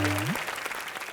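Audience applause in a TV comedy studio, a steady wash of clapping across the whole clip with a brief tonal musical sting at the start.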